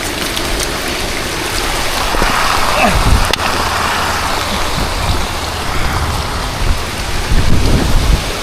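Heavy rain pours over a rooftop garden with a low rumble of thunder, a dense steady hiss of drops hitting surfaces close by, and a voice talking over it.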